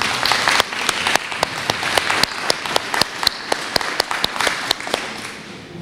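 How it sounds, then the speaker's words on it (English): Scattered, sharp hand claps from a small audience at a speech event ring out in an uneven rhythm, fairly close and clear, without talk. "Let's give them a big round of applause."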